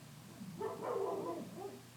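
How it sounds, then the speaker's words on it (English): Several dogs bark in the background of a room where flowers are being painted in an artist's book, giving a short, busy burst of yapping and whining that rises mid-moment and then fades. "Sorry about the dogs."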